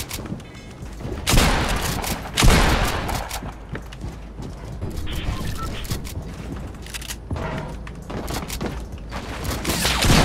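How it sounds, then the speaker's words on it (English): Sniper and shotgun fire in the Fortnite video game, heard as a burst of loud gunshots and impacts over a steady game soundscape, with a couple of sharp blasts standing out among rapid clicks and mechanical clatter. "I just got sniped and shotgunned by two different people at the same time"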